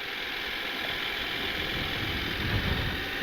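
A 2023 KTM 890 Adventure R motorcycle engine runs at a steady, close idle, a continuous low rumble with mechanical clatter and no talk over it.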